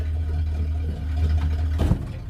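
A Ford Fairlane engine runs hot with dropping oil pressure, a low, steady idling rumble close by, with a brief louder knock or clatter near the end.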